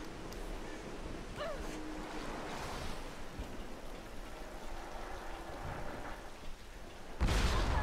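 Thunder in the Tomb Raider video game arrives as a sudden loud crack near the end, after a stretch of quiet rain-like ambience with faint game sounds.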